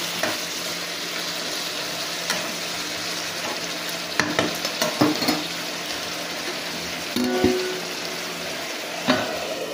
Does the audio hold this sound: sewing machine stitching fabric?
no